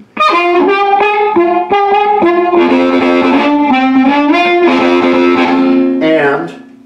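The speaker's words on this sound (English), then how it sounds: "Here's the same amp model with a large room reverb." Harmonica played through a 1960s Sears amp model with large room reverb on a Fender Mustang, sustained gritty chords and bent notes running continuously and loud, with a reverberant tail ringing out at the end.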